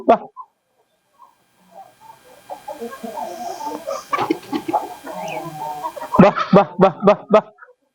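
Aseel chickens cluck and call close by, with a burst of sharp, rapid clucks near the end and a low hum underneath.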